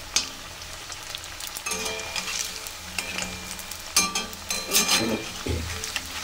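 Cauliflower pakoras frying in hot oil, a close bright sizzle with bursts of crackling and clattering as pieces are stirred and lifted.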